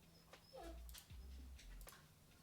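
Dogs whimpering and whining indoors in a few short, faint, high-pitched cries over quiet background noise.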